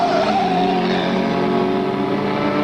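Race car engines roar steadily through an auto race broadcast, a dense continuous drone of several cars at speed, loud and unbroken with no talk over it.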